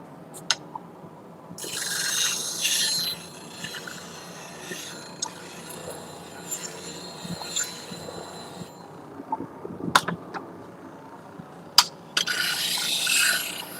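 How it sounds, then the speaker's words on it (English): Tool steel being sharpened on the top of a low-speed grinder fitted with CBN wheels in a woodworking shop, giving a steady, fairly quiet abrasive rasp with louder bursts of grinding and a few sharp ticks. "So we're using a low speed grinder and we're using CBN wheels."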